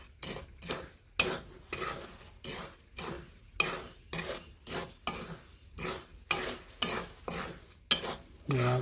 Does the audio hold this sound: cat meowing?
no